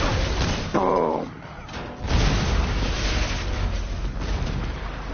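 A Marvel's Avengers video-game explosion erupts as a loud, broad rumbling boom, followed by sustained crackling debris noise with game sound around it.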